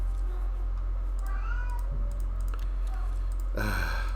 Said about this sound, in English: My cats are criticizing my gameplay at the moment.